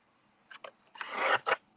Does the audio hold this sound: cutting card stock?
yes